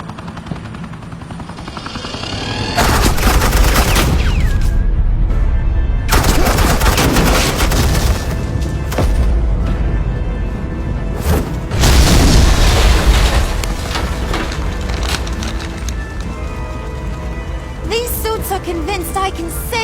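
Loud, sustained video-game battle in a Batman title: dense suppressing gunfire bursts and heavy explosion booms layered over a constant rotor-like roar, near and continuous, with some speech mixed in.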